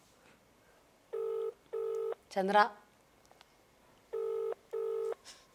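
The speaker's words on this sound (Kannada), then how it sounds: "ಫೋನ್ ತಗೊಳ್ಳಿ ಬೇಗ" An outgoing phone call rings back in two pairs of clear electronic double beeps separated by a pause, with a voice calling out briefly between them.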